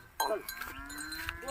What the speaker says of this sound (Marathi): चरिंद्यावरल्या गाय आहे